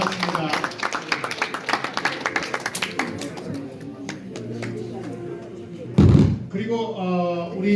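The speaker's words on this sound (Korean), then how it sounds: "자 박수로 크게 이곳을 격려해 주시고 고맙겠습니다" An audience applauds at a formal 50th-anniversary commemorative ceremony, with a burst of scattered claps in the first few seconds that thins out before a voice and a loud thump follow.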